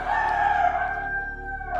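A rooster crows in one long, loud, sustained call close by, with no speech over it.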